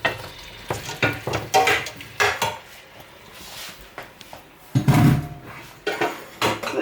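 Shrimps being added to okra soup and stirred in a pot, irregular spoon scrapes and clinks against the pot with a brief louder splash and sizzle partway through.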